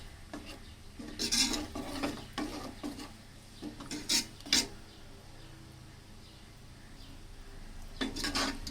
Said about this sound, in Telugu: ఇవన్నీ మళ్ళీ ఒకసారి తిప్పుకోవాలి